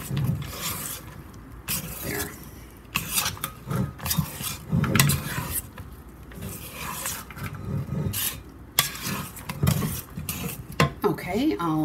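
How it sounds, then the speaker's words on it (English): A dough whisk folds chocolate chips into banana bread batter in a bowl, with repeated close scrapes and knocks against the bowl while a person talks over them. "I'm just going to finish off by folding it in with my dough whisk."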